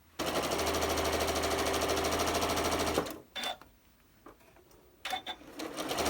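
A sewing machine runs steadily for about three seconds while stitching a pieced quilt block, then stops, leaving quiet handling clicks and a brief restart near the end; no one speaks.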